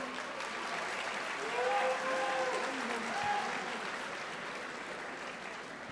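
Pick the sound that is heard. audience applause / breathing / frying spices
audience applause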